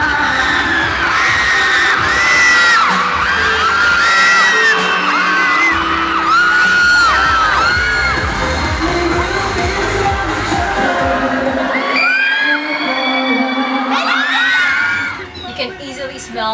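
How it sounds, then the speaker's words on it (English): A large crowd of K-pop fans cheers wildly, with loud sustained screams, whoops and shouts that fill the air and swell again near the end. "The crowd went totally wild."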